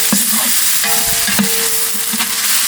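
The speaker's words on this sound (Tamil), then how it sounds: "வெங்காயம் பச்சை மிளகாய் இஞ்சி பூண்டு பேஸ்ட் எல்லாம் நல்லா வதங்கிடுச்சு" Onion, green chili and ginger-garlic paste sauté in hot oil with a steady, close sizzle, broken by a few scraping stirs of a spoon against the pot in a village outdoor kitchen.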